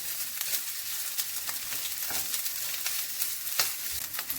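Rice sizzles and crackles steadily in a hot pan as it is stir-fried Indonesian style, a continuous close hiss broken by occasional scrapes of stirring, with no voices.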